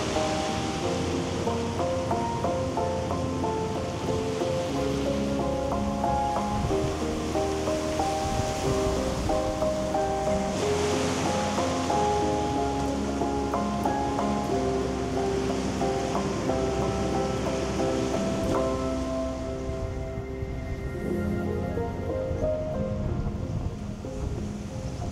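Surf washes onto the beach at Porth Nobla on Anglesey around rocky outcrops at dawn, a continuous broad roar of breaking waves with rising and falling swells.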